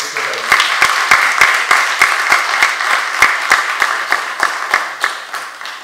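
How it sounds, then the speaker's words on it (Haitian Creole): Loud, close audience applause from a gathered crowd, dense clapping with sharp individual claps standing out in a steady rhythm, holding throughout without pause. "Un applaudissement avec nous."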